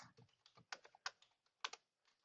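Computer keyboard keys being typed on in short, irregular bursts of clicks with pauses between, close and fairly quiet, no voices.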